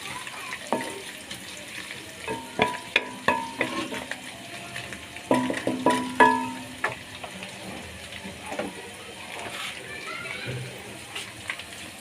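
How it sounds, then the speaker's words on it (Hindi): Ginger and garlic fry in a cooking pot, a low sizzle broken by repeated scraping and clattering stirring strokes, with faint voices in the background. "अदरक लहसुन डालने से ही हंडिया में जान पड़ जाती है"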